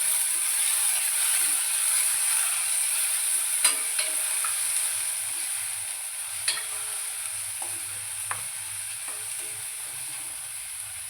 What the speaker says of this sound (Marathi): मिक्स करून घेते.